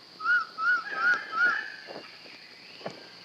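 A male Raggiana bird of paradise gives four loud, harsh rising cries in quick succession, then a few softer calls and a sharp note follow against a quiet forest background.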